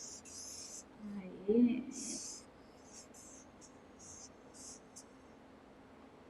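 A pen or marker scratches across paper while a blue flower is drawn, soft repeated strokes close by, with a brief louder patch of scribbling and a few quiet spoken words over it.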